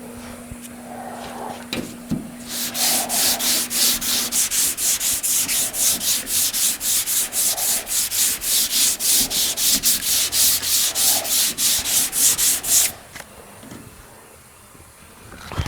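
Steady rhythmic sanding strokes on polyester primer on a 1970 Mustang Convertible, a rapid back-and-forth scratchy rasp repeating for about ten seconds, close up, then stopping.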